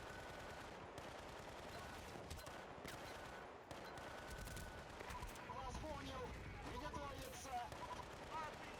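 Rapid gunfire bursts in Battlefield: Bad Company, distant and fairly faint, crackling steadily under a running layer of game ambience with voices talking over it.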